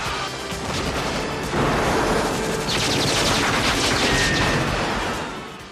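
Sustained gunfire from a 1986 action film scene as a commando team storms a school held by terrorists, dense bursts of automatic fire and shots crackling continuously at close range with a loud rumbling backdrop, no speech.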